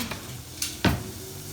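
Churros in hot oil give a soft sizzle with a couple of brief stirring clinks and a sharper splash-like burst, heard close and alone.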